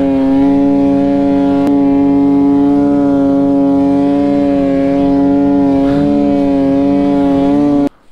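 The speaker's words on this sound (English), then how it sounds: "I don't think my poor snowmobile can take too much of this." A turbo snowmobile engine held wide open in deep snow on a trail, a loud sustained steady drone with strong harmonic whine that barely varies, cutting off abruptly at the very end.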